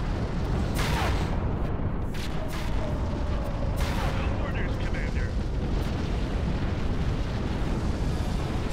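Missiles from Typhoon ships streak in and explode in a space battle in a strategy video game, a dense rumbling barrage with scattered booms and bursts over a continuous roar.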